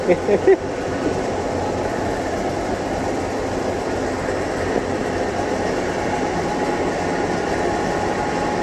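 Steady rumbling of a moving train, with a continuous roar and faint rhythmic rattling, heard from inside, loud and unbroken throughout.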